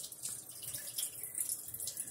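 Water poured out of a container of defrosted tomatoes, a steady close splashing trickle into a sink that runs throughout without pause.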